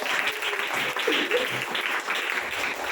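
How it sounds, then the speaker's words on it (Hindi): Audience applause inside a church during a Hindi Christian sermon, a steady wash of clapping lasting a few seconds at moderate loudness with no voices over it. "ताली बजाना है इसमें।"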